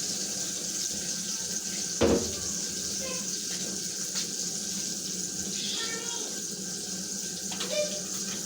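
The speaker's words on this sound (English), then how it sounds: "Macaroni is done. Let's drain and mix it." Water pours steadily into a kitchen sink as cooked macaroni is drained, a continuous splashing rush with a sharper clatter near the start, heard moderately close.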